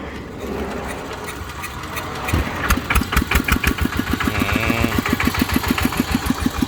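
A rebuilt small Yanmar diesel engine cranks and starts, settling into a loud, rapid chugging idle with a steady rhythmic knock, close by.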